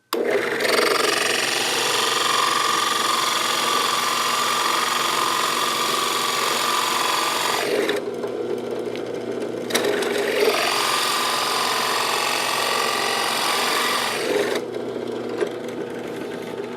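A power drill with a 22mm bit whirs steadily as it bores through wood, stopping briefly twice before starting again, loud and close with no talking.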